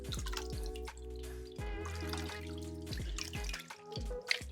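Tap water running into a bathroom sink while someone rinses off face wash, with splashing and dripping that shifts and gurgles as hands move through the stream, close and fairly loud.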